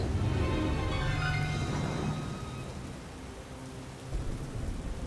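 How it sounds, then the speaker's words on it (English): Heavy rain pours steadily while thunder rumbles low and long on a stormy night in the video game Tiny Rogues, the downpour easing slightly before a fresh swell near the end. "This story begins like many other games in this genre, in a dark and stormy night."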